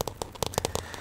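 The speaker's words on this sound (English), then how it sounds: "Tapping my iPhone. My iPhone case." Fingertips tapping on an iPhone case, a quick flurry of light, crisp taps heard up close and fairly soft in a quiet room.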